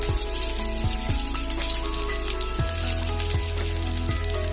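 Garlic and nigella seeds fry in hot oil in a home kitchen, a loud, close, constant sizzle with sharp spits and crackles over a low steady hum.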